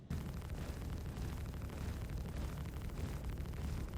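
Ship cannon rounds striking and exploding in Star Citizen space combat, a dense continuous roar of booming bursts that stays loud and close for the whole stretch, with no voice.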